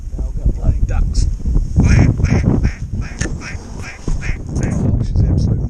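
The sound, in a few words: ducks quacking at dawn on a lake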